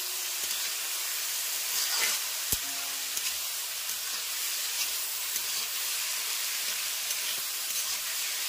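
An egg frying in a pan gives off a soft, steady hiss and sizzle with a sharp tap or two, faint and continuous throughout, without any talking.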